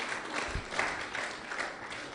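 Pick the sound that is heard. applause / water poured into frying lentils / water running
applause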